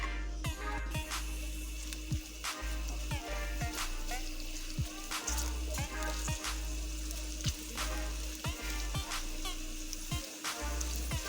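Two medium onions sizzle steadily in hot oil at the start of a palak beef gosht, with regular stirring clicks and scrapes tapping through the frying.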